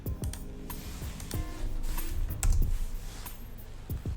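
Keys clatter on a computer keyboard as an ISBN number is typed in, a quick uneven run of close, crisp keystrokes with no voices.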